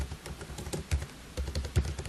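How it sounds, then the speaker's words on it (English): Quick, uneven clicks of typing on a computer keyboard in a classroom lecture setting, with irregular bursts of keystrokes and a few heavier taps, close and fairly clear. "So let's see if we can type that in"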